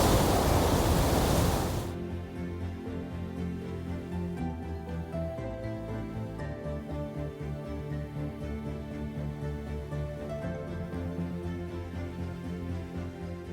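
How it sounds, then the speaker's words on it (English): Deep, dense roar of water at Iguazu Falls, heard from a wooden pathway some distance away: a steady, broad rushing wash that holds level throughout after a brief louder hiss at the start, with no voices. "Along the wooden pathway, the sound of water echoes from afar, deep, dense,"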